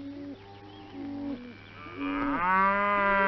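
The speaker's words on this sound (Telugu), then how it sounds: "ఇక మీ గేదెల్ని ఆవుల్ని తోలుకుపండి" Cows and buffaloes mooing in a Telugu film scene about herded village livestock, several long low calls overlapping one after another, close and fairly loud, the last one rising and swelling, with no talking.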